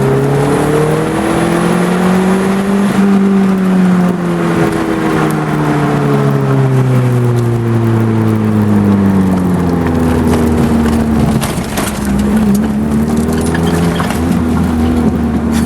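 A 1990 Eagle Talon TSi AWD turbo is driven hard through corners, heard from inside the car. Its loud, steady engine drone rises and falls in pitch as it accelerates and eases off, without a break, under road noise.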